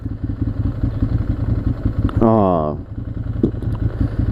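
A 90-degree L-twin motorcycle engine idles in traffic with a steady low pulsing throb, close and continuous, while someone briefly speaks over it.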